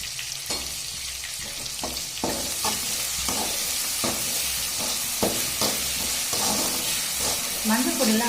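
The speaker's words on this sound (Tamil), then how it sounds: "இந்தமாரி வெங்காயம் பொரிஞ்சா நல்லா குழம்பு டேஸ்ட்டாக இருக்கும் ஃப்ரெண்ட்ஸ்." Onions frying in hot oil for a fish curry, a steady close sizzle broken by repeated scraping stirs of a spoon in the pan, with no talking.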